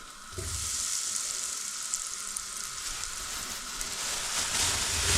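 Tofu cubes drop into hot oil and fry with a sudden, steady crackling sizzle that stays loud and even to the end, with no talk.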